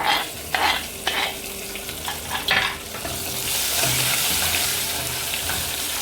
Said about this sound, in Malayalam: ഇനി അതിലേക്ക് നമ്മൾ അരിഞ്ഞു വെച്ചിരിക്കുന്ന കൊച്ചുള്ളി, വറ്റൽമുളക്, കറിവേപ്പില 3 കൂടെ ചേർത്ത് കൊടുക്കാം.